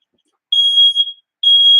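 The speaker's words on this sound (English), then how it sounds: "I'm about to get rid of that smoke alarm." A household smoke alarm sounds at close range, two loud piercing high beeps separated by a short silence.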